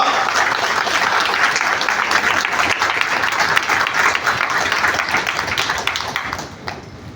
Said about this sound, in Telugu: మరి ఆ చప్పట్లు కూడా చాలా దద్దరిల్లాలా.